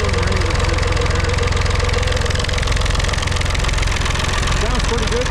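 A David Brown e26 tractor diesel engine idles steadily close by, a loud, even low chugging rhythm that runs throughout while it warms up.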